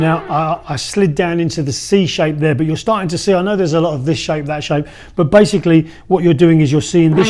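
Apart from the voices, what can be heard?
No everyday noise stands out behind the speech.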